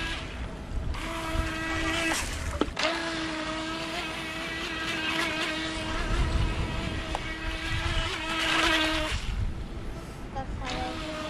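A small remote-control speedboat runs across a swimming pool, its high electric motor whine holding steady with brief drops and changes in pitch, heard fairly close against outdoor wind and background noise.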